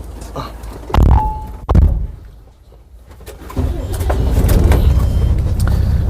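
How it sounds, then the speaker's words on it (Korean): A Tata Daewoo Prima heavy-duty cargo truck with a worn but clean cab starts up. A couple of heavy thunks and cranking give way to a steady, loud, close diesel idle rumble. "자, 시동 한번 걸어 볼게요."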